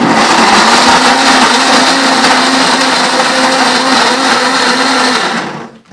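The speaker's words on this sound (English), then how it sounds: "So now we're going to use our blend tech here, blender." A Blendtec blender runs steadily at full power, blending a coconut and almond yogurt mixture with a loud, constant whir that fades out at the very end.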